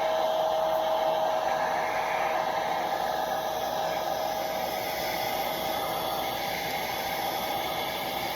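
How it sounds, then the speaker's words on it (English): A hair dryer blows warm air steadily on a rescued battery hen after an Epsom salt soak, a constant whooshing roar with a faint whine, close and unbroken throughout. "they all love the hair dryer"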